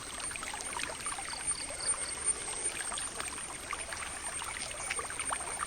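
Water trickling and streaming steadily through a small channel in a garden beside a pond, a continuous soft gurgle with a faint high whine above it and no talk.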